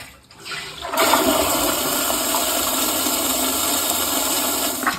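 An EPLO E16BP smart toilet flushes automatically, a loud steady rush of water starting after a brief quiet moment and continuing evenly as the bowl sides are washed and the tank refills.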